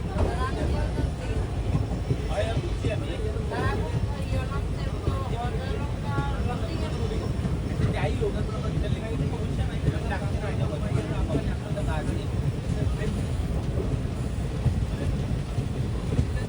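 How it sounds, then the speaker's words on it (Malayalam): The Kanchanjungha Express, heard from inside a sleeper-class coach on the Badarpur to Agartala line, rolls through a sharp curve with a continuous loud rumble and rattling clatter, while a voice speaks over it. "ട്രെയിൻ ഇപ്പോൾ ഒരു ഷാർപ്പ് കർവ് എടുക്കുകയാണ്"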